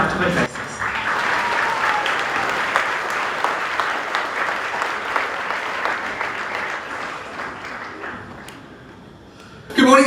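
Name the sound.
audience applause at school presentation day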